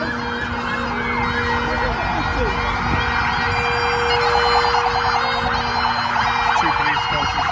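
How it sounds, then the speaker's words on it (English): Police car sirens wail continuously at a London street protest, loud and steady with overlapping rising and falling tones over crowd noise and faint talk. "Two police cars responding."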